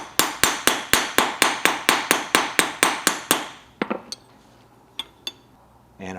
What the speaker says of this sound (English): Give those copper rivets a little bit of texture.